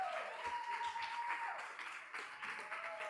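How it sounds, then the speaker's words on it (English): An audience at a live speaking event gives a standing ovation, a soft, sustained wash of applause heard from a distance with a faint voice underneath. "Standing ovation."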